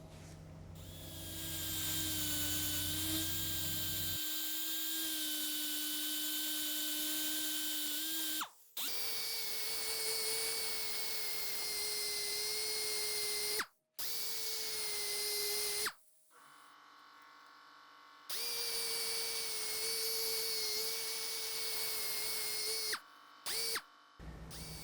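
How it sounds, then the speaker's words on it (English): A random orbital sander with 60 grit pads smooths the edges of a prototype, its steady whirring drone running in several long stretches broken by brief stops and restarts. "I like to take a random orbital sander and just smooth everything down around the edges and give it kind of a nice cool finish"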